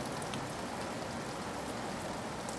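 Steady autumn rain pelts the worn facade of an old building on a stormy night, a dense, even hiss of drops that runs unbroken from start to finish with no voices.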